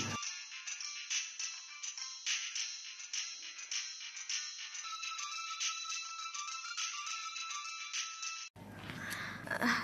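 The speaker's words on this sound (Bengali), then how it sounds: "তোমার ফোনটা বাজছে, যাও ধরো গিয়ে" A phone ringtone plays a bright, repeating electronic melody for several seconds, clear and fairly close, then cuts off abruptly.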